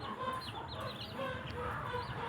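Chickens clucking steadily nearby, a dense overlapping stream of short clucks and chirpy calls from several birds at once.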